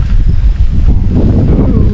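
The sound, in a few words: wind blowing at a lakeside campsite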